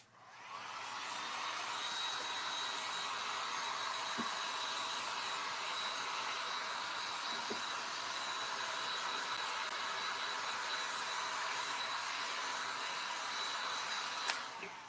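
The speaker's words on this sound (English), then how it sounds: "So we're going to hit this with the hairdryer." A hair dryer blows with a steady, loud whooshing whine that holds constant for the whole stretch, melting wax over a milk paint finish, with only a faint click near the end.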